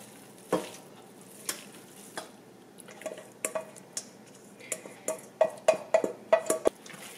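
A corn mixture for pastel de choclo cooks in a pot over medium-low heat, with a spoon scraping and knocking the pot in irregular strokes that grow quicker and sharper, over a faint steady simmer.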